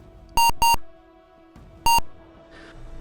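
Electronic beeps from the DOS game Attack of the Space Cats: two quick loud tones close together, a pause, then a third identical beep over a low steady hum.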